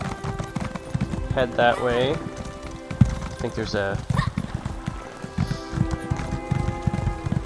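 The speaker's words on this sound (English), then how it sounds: "Right back on the horse." Horse hooves gallop in a steady, quick clip-clop rhythm in The Elder Scrolls Online: Necrom, loud and continuous beneath someone talking over the ride.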